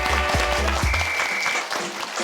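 Studio audience applause on a Korean career talk show, a dense burst of clapping mixed with a low musical sting, fading slightly toward the end.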